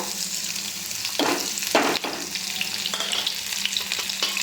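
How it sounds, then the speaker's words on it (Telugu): Chopped onions and green chilies fry in hot oil in a pan, a steady close sizzle with a few louder bursts as the pieces are stirred. "ఉల్లిపాయ పచ్చిమిర్చి వేసుకున్న తర్వాత ఇదైతే కొంచెం ఫ్రై కావాలి"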